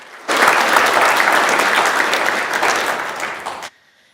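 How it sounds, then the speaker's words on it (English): Dense, loud applause fills the Senate chamber, starting abruptly and holding steady for over three seconds before cutting off sharply into near silence. "let's give a huge round of applause for everyone here, all of our heroes"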